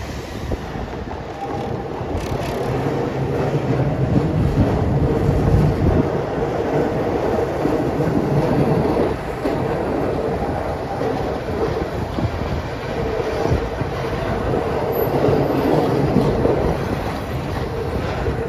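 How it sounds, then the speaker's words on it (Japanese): A Keihan electric train on the Ishiyama Sakamoto Line near Otsu approaches, making a loud continuous rumble with rail clatter and a steady hum that stays strong throughout the clip. "お、電車が見えるぞ。"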